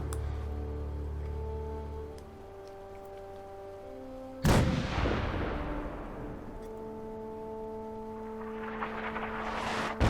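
A weapon fires in Fallout 4: one sudden heavy boom cuts through steady droning game hum, followed by a long decaying rumble and a rising whoosh.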